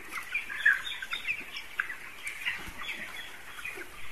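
Broiler chickens on a farm with infectious bronchitis cluck and chirp in a busy flock chorus, many birds calling over each other at moderate volume with no talk.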